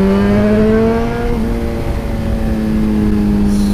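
Suzuki GSX-R motorcycle engine on the road, a steady loud droning tone with a quick throttle blip whose pitch shifts and settles, heard up close with no voices.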